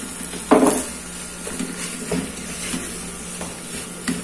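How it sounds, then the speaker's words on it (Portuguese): Onion sautéing in a pan with pressure-cooked chicken gizzards for strogonoff, heard as a soft steady sizzle with a louder clatter of stirring near the start and light scraping taps after it. "Agora nós vamos colocar a cebola e a cebola solta líquidos."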